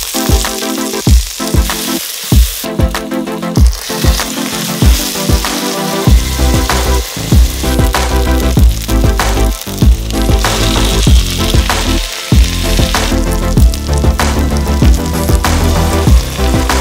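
Prawns sizzle and fry in hot oil in a Geek Robocook electric cooker for a prawn biryani, a steady loud crackle with stirring knocks throughout and no voices.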